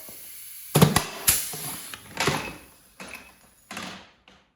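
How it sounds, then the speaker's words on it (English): A pneumatic rivet gun sets rivets on a lightweight snowmobile silencer, giving a series of about six sharp pneumatic bursts with hissing air releases, spaced unevenly and fading toward the end; close, with no talking. "One of these pneumatic rivet guns really works well for doing these types of projects."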